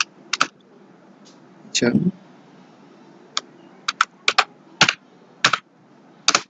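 A file name is typed on a computer keyboard, heard as sparse, sharp, close keystrokes with gaps between them, plus a brief spoken word in the middle.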